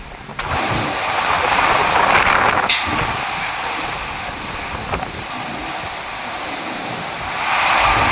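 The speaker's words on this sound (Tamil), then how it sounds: "பயங்கரமான காற்று, அப்படியே சூறாவளி காற்று மாதிரி சொல்லிட்டு வீசுது" Strong cyclone-like wind with heavy rain roars in a loud, continuous broadband rush, swelling and easing in gusts and buffeting the microphone close up.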